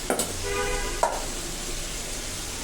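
Meat fries in a pan alongside turmeric-and-salt potatoes, a steady broadband sizzle with a couple of sharp utensil clinks near the start and around one second, no talk.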